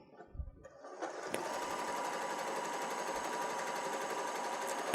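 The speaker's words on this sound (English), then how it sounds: "So we're just going to do a zigzag stitch here." After a brief quiet start and a click, a sewing machine runs steadily and close up, stitching a zigzag stitch on fabric for a pumpkin appliqué, a continuous mechanical whir with a rapid needle rhythm.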